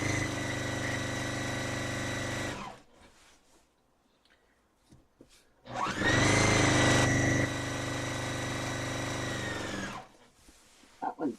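A sewing machine runs steadily for a couple of seconds, stops, then starts again with its pedal pressed, whirring loudly and evenly for about four seconds before cutting off.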